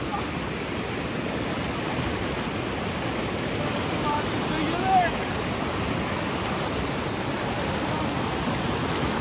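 Fast, cold glacier meltwater stream rushing beside the Manali to Kaza highway, a steady, loud broadband roar of churning water close by that continues without a break.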